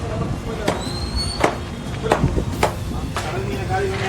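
A fishmonger in a Tamil Nadu market chops and cleans fish with sharp, irregular knife strikes on a board, set against busy market noise and voices.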